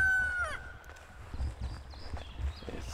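A rooster crows near the start on a farm at six in the morning, followed by faint chicken clucks and scattered thumps and footsteps.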